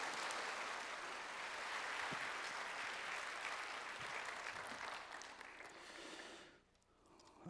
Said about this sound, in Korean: 우리 같이 큰 박수로 환영하고 우리 목사님 말씀 듣겠습니다